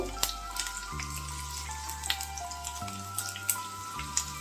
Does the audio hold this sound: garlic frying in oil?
yes